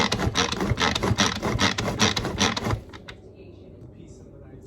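A food processor chops pico de gallo salsa in loud, steady churning bursts with a ratcheting, clattering texture for almost three seconds, then cuts off, leaving quiet room tone behind.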